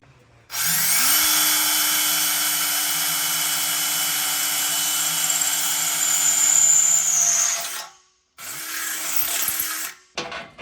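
A power drill whines loudly and steadily for several seconds drilling a bolt hole in a car, stops briefly, then starts up again for a second shorter run.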